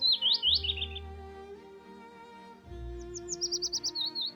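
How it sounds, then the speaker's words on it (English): Birds chirp and trill around a flowering bitter aloe. Quick high tweets open the sequence and a rapid run of calls follows later, over a low musical drone. "Birds flock to its nectar, a rare sweetness in the dead season."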